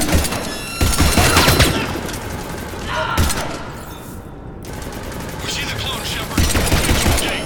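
Gunfire in the video game Mass Effect 3, loud bursts of rapid automatic shots and thuds in several volleys with quieter gaps between them.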